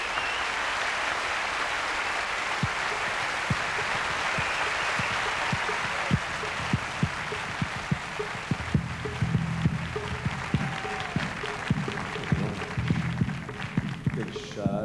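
Audience at a live stage show applauding, a dense wash of clapping that thins into scattered claps, with voices speaking over it near the end.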